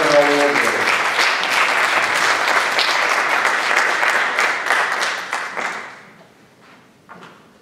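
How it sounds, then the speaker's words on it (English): Loud audience applause for graduating 12th-grade seniors at a high school awards day, sustained clapping that fades out near the end with a few scattered claps. "let's give a round of applause for all the 12th graders that are all over here."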